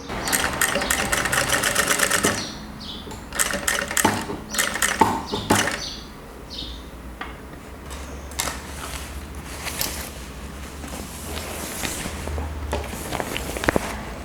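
A sewing machine stitches fabric in short, fast, clattering runs that stop and start, with quiet gaps between them filled with soft handling and shuffling noises.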